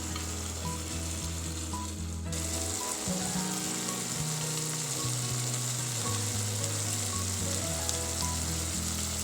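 A chicken dish fries in a pan over a low gas flame, giving a steady, close sizzle with soft stirring scrapes and no voices.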